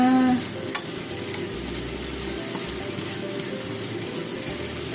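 Komatsuna greens and egg stir-fried together in a pan give a steady, moderate sizzle, with occasional faint clicks of utensils stirring the food and no voices.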